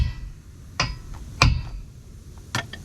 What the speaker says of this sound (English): you get your big hammer and you just give them a whack